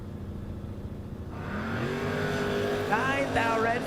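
A Camaro drag car's engine rises from a low rumble into a loud, climbing rev at the drag strip. An announcer's voice runs over the start of the engine.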